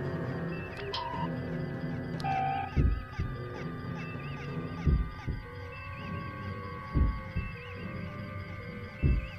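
A slow, muffled heartbeat picked up by a starship's sensors from a moon in Star Trek Continues. About four deep, evenly spaced thumps sit over a steady electronic hum, with no voices.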